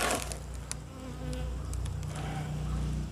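Honey bees buzz in a dense, continuous drone at a hive, with individual insects whirring close by and passing in and out.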